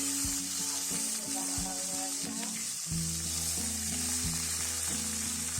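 Chicken pieces frying with already-browned onions in a pan for a traditional Bangladeshi chicken curry with elephant foot yam, a steady loud sizzle with occasional stirring scrapes and a low hum beneath.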